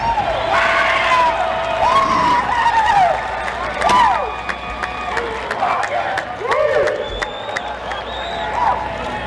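A crowd cheers for the winner at a sprint car race at the Knoxville Nationals, with loud, continuous noise and whistles throughout, under a public-address announcer's voice.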